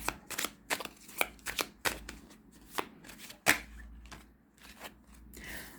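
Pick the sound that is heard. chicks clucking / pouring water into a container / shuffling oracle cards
shuffling oracle cards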